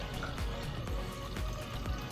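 Water runs from a refrigerator dispenser fitted with a new filter into a cup, a steady close rushing pour that stays even throughout.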